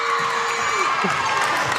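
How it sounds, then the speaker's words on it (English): Crowd cheering and whooping after San Diego wins a youth volleyball pool-play match in a gym, excited shouts and yells over a continuous roar, close and lively. "And the crowd is going crazy."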